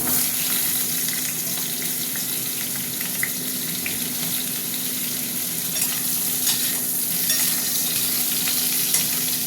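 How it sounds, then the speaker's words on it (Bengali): Pointed gourd pieces fry in hot oil in a pan, a steady, dense sizzle with a constant hum beneath it and occasional faint pops, close and unbroken throughout. "তেলটা গরম হোক, পটলগুলো দিয়ে দিচ্ছি।"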